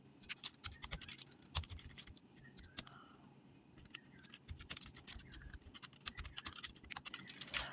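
Keys clack steadily on a computer keyboard as a search is typed into a browser, a run of quick, close, fairly quiet taps with short pauses and no talking.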